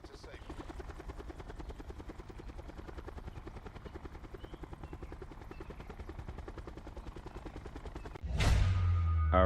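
Steady rapid thumping of helicopter rotor blades in the video game Black Ops 4 Blackout, continuous and fairly loud, with a sudden louder burst near the end.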